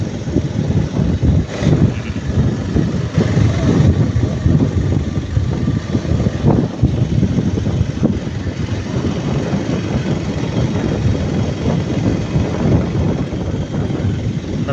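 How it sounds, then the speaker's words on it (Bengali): Motorcycle riding along an empty rural road at night near Rajapur, Rajbari, a steady close engine drone with rushing wind across the microphone, no talk. "শুধু আমাদের মোটরসাইকেল যাচ্ছে।"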